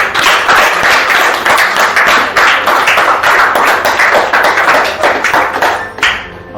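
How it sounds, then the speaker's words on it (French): A large audience claps loudly and steadily in continuous dense applause for fathers on Father's Day, a close wash of hand claps that fades slightly at the end. "J'aimerais vraiment qu'on acclame tous les papas."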